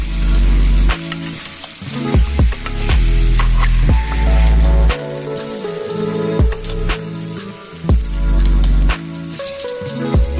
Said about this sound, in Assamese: অলপ তেল দি পেলাই তাতে পাঁচফোৰণ আৰু পিঁয়াজ দিছোঁ